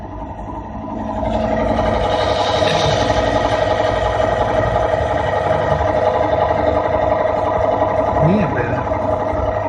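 A lubricant test machine runs steadily under a load of two steel weights, giving a continuous mechanical hum and whirr with a faint whine, heard close and persistent throughout while a voice talks over it.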